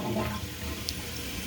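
A household toilet being flushed, with water rushing down through the bowl and the tank beginning to refill, a steady close wash of water noise with no talking.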